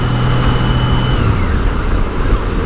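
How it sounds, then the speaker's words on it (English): An ambulance siren passes during a ride on a 2002 Honda GL1800 Goldwing motorcycle, a faint sweeping wail above steady, loud road and wind noise that fades after a couple of seconds. "Uh-oh, an ambulance."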